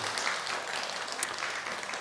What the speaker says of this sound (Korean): 박수 한번 부탁드립니다